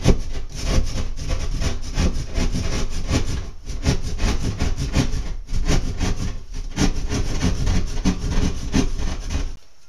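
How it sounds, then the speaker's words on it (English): A drywall saw cuts through drywall for a wall access panel, rapid rhythmic rasping strokes that are loud and close, with a brief pause midway. "I'm going to start my cut, and the way I do it is I'm just going to take my drywall saw and score it"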